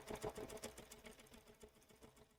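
A Bernina sewing machine fitted with a fringe foot stitching fabric, a steady fast whirring hum of the needle running continuously and faintly in the background.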